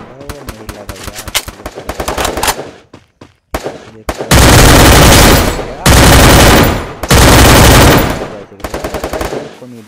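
Rapid automatic gunfire from the Free Fire Clash Squad shooter game, fired in several loud sustained bursts after a stretch of quieter in-game effects, with brief gaps between volleys.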